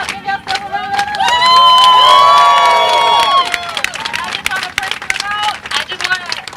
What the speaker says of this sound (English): now y'all give yourself a round of applause